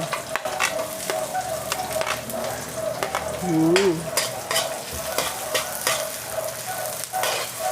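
White onion and garlic sauté in a pan for a chicken tinola, giving a close, steady sizzle with repeated scraping stir strokes throughout and no talking.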